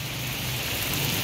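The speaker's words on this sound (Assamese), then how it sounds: "বৰষুণ হৈছে বম বৰষুণ হৈছে" Heavy rain pouring steadily in a village, a dense, continuous hiss of drops hitting surfaces, close and loud with no break across the short stretch.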